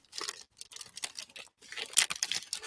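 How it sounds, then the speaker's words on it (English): Snack wrapper packaging crinkles close up in short irregular bursts, with brief pauses between handfuls of crisp rustling and a louder crackle near the end, no voices present. "Sorry for the crinkle crinkle"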